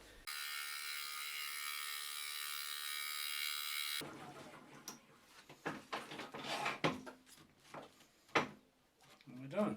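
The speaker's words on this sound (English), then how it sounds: "we're going to open that up now with a 25mm Forstner bit" A 25mm Forstner bit bores into an oak burl with a steady, high drilling whine for a few seconds. Scattered wooden knocks and handling clatter follow, along with faint sounds that may be voices.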